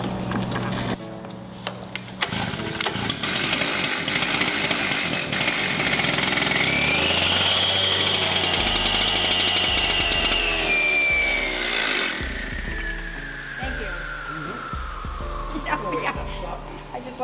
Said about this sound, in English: we'll either pull it off with some tools and then use a chainsaw